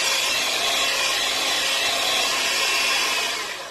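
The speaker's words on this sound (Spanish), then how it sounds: "ya en este momento me voy a dedicar solamente a lo que es batir" A whisk or mixer beats meringue for turrón in a bowl, making a steady, close, dense hissing whir that runs continuously and fades slightly at the end.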